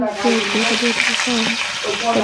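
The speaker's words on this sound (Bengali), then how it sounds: "গরম হয়ে গেছে পেঁয়াজটা আমি সেটা লাল লাল করে ভেজে" Onions frying in hot oil for a Bengali home-cooked dish, a steady broadband sizzle running throughout with a voice speaking over it nearby.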